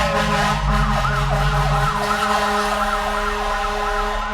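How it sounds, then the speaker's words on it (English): Emergency vehicle siren wailing past, a loud rising-and-falling yelp cycling rapidly over steady traffic rumble, close by and continuous, with no talk. "I'm just letting this siren go by."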